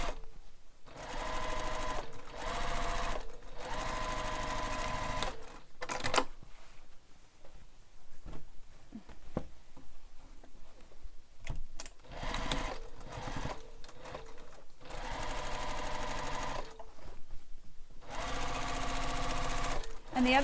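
Sewing machine stitching beach bag fabric with a long stitch length, running in several loud sustained bursts separated by quieter pauses with small handling noises.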